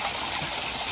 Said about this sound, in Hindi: दो झरने यहाँ पे, दो नाले हैं, एक तो ये है मेरे पीछे